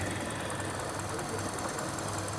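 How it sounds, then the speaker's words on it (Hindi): A used Hyundai Sonata at a secondhand car market in Riyadh idles with a steady, low, even engine hum, fairly quiet and close, with no other sounds standing out. "मैं आपको इंजन इसका चेक करवा देता हूँ। इंजन इसका ठीक है"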